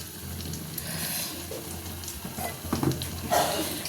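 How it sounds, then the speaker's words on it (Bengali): Running tap water splashes into a mixer grinder jar as it is rinsed in a kitchen, a soft, uneven trickle with a few brighter splashes near the end. "মিক্সির বাটিটা ধুয়ে জলটা দেব"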